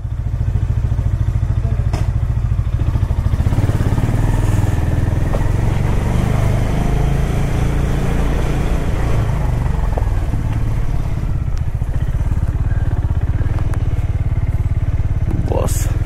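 A motorcycle ridden on a foggy morning road during a bikers' meet-up gives a loud, continuous engine rumble with wind buffeting up close, steady for the whole stretch, without voices.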